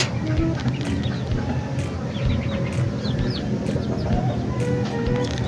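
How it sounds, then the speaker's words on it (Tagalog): A flock of chickens clucks in a farmyard, several birds close by with short chirps and clucks over a busy murmur of background noise and faint voices. "ipapakita ko sa inyo yung mga manok natin ngayon"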